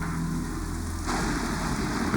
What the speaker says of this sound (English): The storm gets worse and day turns to night.